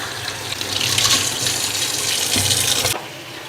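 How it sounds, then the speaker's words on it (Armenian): Tap water gushes steadily into a kettle, a loud continuous stream close by that stops abruptly after about three seconds. "Թեյնիկը ջուր լցնեմ"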